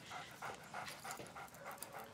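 Two dogs panting quickly in a steady rhythm, with faint whimpers, close and fairly quiet, with no talking.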